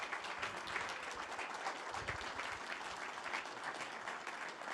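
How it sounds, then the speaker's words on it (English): Steady, fairly faint applause from an audience at a political town hall in Plymouth, New Hampshire, with a dense wash of many hands clapping throughout and no pause. "Could we give her a round of applause?"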